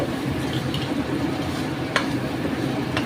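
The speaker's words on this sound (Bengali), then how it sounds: "আরও এই মাংসটা একটু কষাতে হবে কারণ মাটন তো" Mutton being stirred and fried in a pan for restaurant-style mutton tarka, a steady sizzle with scraping stirs throughout and a couple of brief sharp clinks, continuous and close with no talking.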